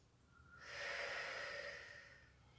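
A single slow, soft breath from a second person in a quiet room during a guided relaxation, swelling and fading over about two seconds with no talking.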